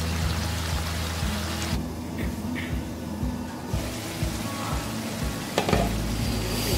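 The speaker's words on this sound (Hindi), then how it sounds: "मज़ीद 2 मिनट इसको मैं तेज़ आंच पे भूनूंगी" Apple gourd (tinda) sabzi frying on a high flame, a steady close sizzle with occasional stirring scrapes and a brief clatter near the end.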